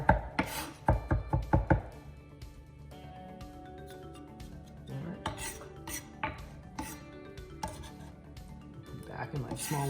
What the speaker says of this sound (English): Just going to chop this just a little bit more here.